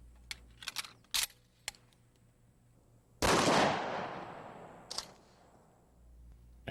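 A shotgun loaded with number 4 buckshot fires a single sharp, loud blast at a mannequin in soft body armor, and the boom rings and fades over about two seconds. Quiet clicks and small handling noises come before it and a brief knock follows.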